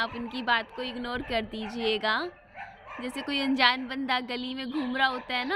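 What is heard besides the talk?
dogs barking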